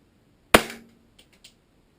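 A WE G17 airsoft pistol fires a single sharp, loud crack through a chronograph, with a short fading ring and a couple of faint clicks after it.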